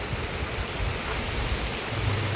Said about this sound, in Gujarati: આવી ગયો વરસાદ